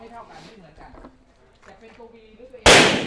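A SIG MCX rifle chambered in .300 Blackout, firing 147-grain ammunition, lets off one sharp, loud gunshot near the end, after a stretch of speech.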